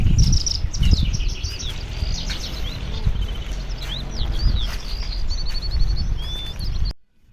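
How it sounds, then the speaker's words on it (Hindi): Small birds chirp and tweet steadily in short repeated calls over a low outdoor rumble at a place where birds are kept, then the sound cuts off abruptly near the end. "चिड़ियों की चहकने की आवाज़ आ रही थी"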